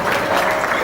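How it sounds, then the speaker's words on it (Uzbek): Wedding guests at a celebration in Samarkand break into dense, continuous clapping, a loud, full wash of applause filling the room for a short moment. "Bravo, bu qarsaklar,"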